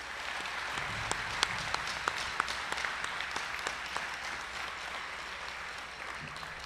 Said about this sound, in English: Get another round of applause for him.